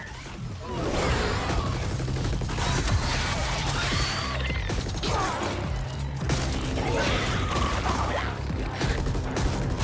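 Dense, continuous gunfire and crashing impacts from a shooter battle in the video game The Ascent, loud throughout with sharp bursts layered over a low rumbling game soundtrack.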